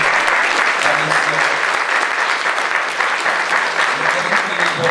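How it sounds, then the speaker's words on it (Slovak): Large audience gives sustained, dense applause for guest performers at an evening May-tree raising folk program in Kysáč, steady and loud throughout with no breaks. "Poprosím veľký aplauz pre našich hostí."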